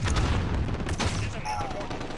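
Gunfire in a shooter video game, with quick bursts of shots and crackling weapon fire coming close together. The shots are mixed with game noise and may include a shotgun.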